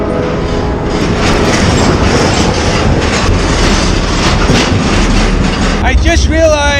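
A freight train moves through a rail yard near Jacksonville, a loud continuous rumble with rhythmic wheel clatter and a squeal at the end, while someone talks over it.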